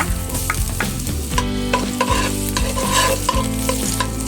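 Ginger frying in a well-used kawali for a saluyot and labong dish: a steady close sizzle with repeated clanking stirs of the spatula against the pan, no voices.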